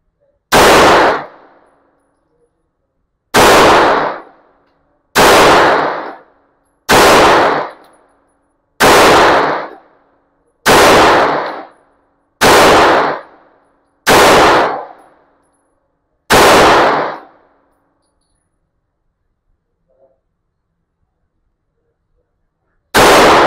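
Nine sharp Glock 19 pistol shots ring out one at a time at a steady pace, each with a bright clanging ring off steel targets that fades before the next, then the range falls quiet.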